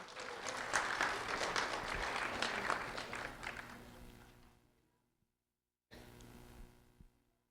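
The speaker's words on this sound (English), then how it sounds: "a round of applause for Skylar Lewis, please" Applause from an audience for Skylar Lewis, a second grade student at Sunshine Elementary School in Lehigh Acres, honored by the county sheriff's office; a dense round of clapping builds and fades over about five seconds, then a second smaller burst follows a brief silence.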